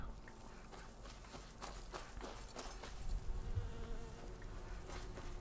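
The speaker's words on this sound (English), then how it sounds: "I just want to collect the bees" Buzzing bees in the Skyrim video game, a soft, continuous drone that waxes and wanes in intensity against a faint background, with no talking.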